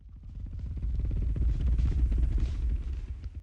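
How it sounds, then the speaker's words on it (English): A leather bag handled and pitched down as a creature texture, giving a dense, low, fluttering rumble with rapid creaky pulses that swells through the middle and tails off. "And then a little bit of this leather bag for texture."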